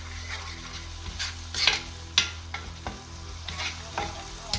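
Red onion for shakshuka stirred as it fries in a pan, with repeated scraping and clacking strokes over a continuous sizzle and a low steady hum, close and fairly loud, no voices.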